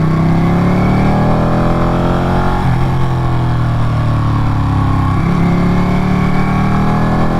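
A Ducati Panigale 959 motorcycle ridden on the Tail of the Dragon, a winding public road in Tennessee and North Carolina, gives a loud, steady engine drone with rising and falling pitch through gear changes and throttle, close and continuous.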